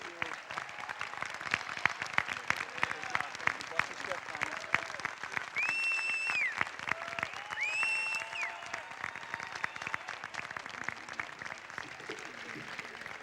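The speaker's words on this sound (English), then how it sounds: "Please join us in giving them a huge round of applause." A graduation audience applauds honored guests in a large hall, a steady wash of clapping throughout with a few brief tonal whistles or cheers rising above it midway.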